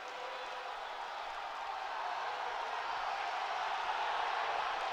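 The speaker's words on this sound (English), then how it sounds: "And the crowd is excited for the hometown kid." Steady roar of a crowd cheering for the hometown wrestler at a Wisconsin vs Michigan college wrestling dual, a dense continuous wash that swells slightly louder toward the end, with no voices standing out.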